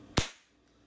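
A single sharp report from a Crosman 2240XL air pistol fired without a suppressor, loud and close, with a quick decay and silence after.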